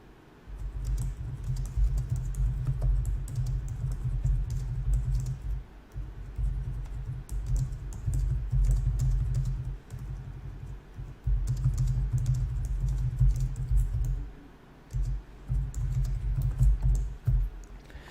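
Steady typing on a computer keyboard during setup of a Shopify online store, with dense bursts of key clicks and short pauses near 5.5, 10 and 15 seconds, close and clear with no talking.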